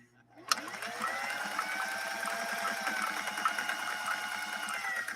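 A 1960s Singer 503A sewing machine stitches a zigzag line, its motor whirring at a rapid, steady mechanical patter that starts abruptly and runs continuously, close and fairly loud.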